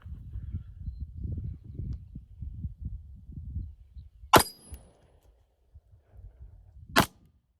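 Two sharp pistol shots crack at a shooting range, close and loud, several seconds apart, each a sudden sharp burst, after a stretch of low rumbling handling noise.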